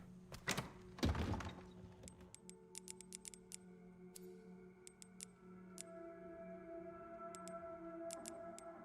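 Lockpicking a door in a video game on Insanity mode: a heavy thunk near the start, then a run of sharp, small metallic clicks spaced irregularly over a low steady hum.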